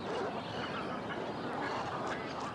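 A freckled duck gives a relatively quiet, rasping quack, a rough, breathy call repeated a few times over a low background hiss, heard alone without any talk.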